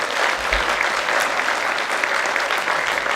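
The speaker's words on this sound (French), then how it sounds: "Merci de l'applaudir pour l'encourager." An audience at an awards ceremony in Aveyron breaks into sustained applause, a dense, steady wash of clapping from a large crowd that fills the whole stretch without pause.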